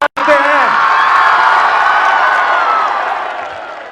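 A large crowd at an Imran Khan political rally in Haripur, Pakistan, bursts into loud, sustained applause and cheering with whoops, a dense roar that swells quickly and then slowly fades.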